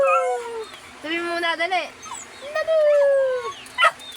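A dog gives whining, yelping howls in several rising and falling bursts up close, with a short sharp yip near the end, while a person speaks briefly.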